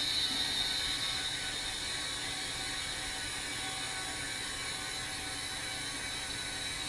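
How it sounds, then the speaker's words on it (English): Steady, even hiss of compressed air flowing through an opened valve into a tank, with a faint mechanical whir underneath, constant throughout and fairly quiet. "I'll just crack this valve open. I don't know if you can hear it, but air is going into the tank"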